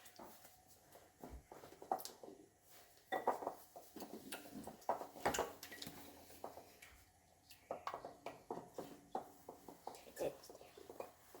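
A spatula stirs Ghirardelli brownie batter in a bowl, producing scattered scraping and soft clinks against the bowl in an uneven rhythm, with people talking over it.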